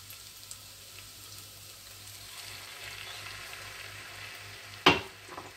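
Tender, golden onions frying in a pan as soy sauce goes in: a faint, steady sizzle that swells gradually, then a sudden sharp hissing burst near the end.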